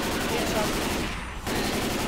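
Sustained rapid gunfire in the zombie shooter Left 4 Dead 2, a dense continuous rattle of automatic weapons filling the whole stretch with only a brief dip near the middle, loud and close with some voices mixed in.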